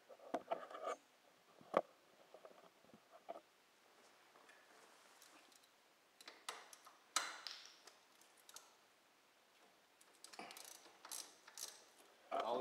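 Ratchet loosening the brake caliper bolts on a Pontiac Sunfire during a brake and rotor change, heard as scattered bursts of quick clicking separated by quiet pauses, fairly faint and close with no talk.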